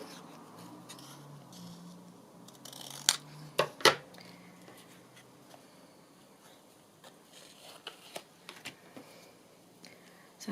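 Scissors snip paper to trim a white edge, a few sharp close cuts clustered together, then lighter scattered handling sounds in a quiet room.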